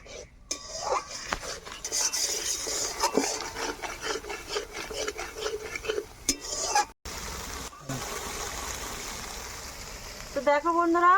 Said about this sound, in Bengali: আবার ভালো করে নেড়ে চেড়ে নেব।